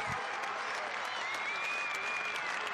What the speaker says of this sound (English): giving John Hutchison a clap off the field